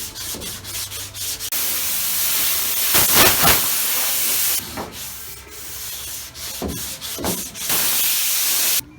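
Sanding block with 180-grit paper rubbing over black primer guide coat on a car roof panel, a long 24-inch block; rhythmic scratchy strokes with bursts of harsher rubbing, close and fairly loud, no talking.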